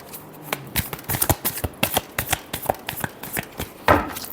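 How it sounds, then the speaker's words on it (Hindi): Tarot cards are shuffled by hand in a quick, uneven series of soft riffling slaps and taps, close up, lasting a few seconds with no voice over it. "last shuffle"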